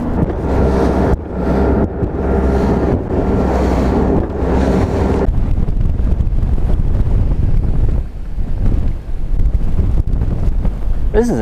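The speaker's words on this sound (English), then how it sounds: "So windy out today." Strong wind on a lake buffets the microphone in loud, continuous gusts, with water lapping and rumbling underneath.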